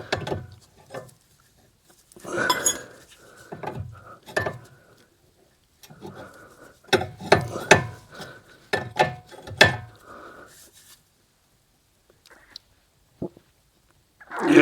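A ratchet snugs up a nut on a car tie rod in short bursts of clicking, with pauses between strokes, close and fairly quiet, the last burst cut off at the end.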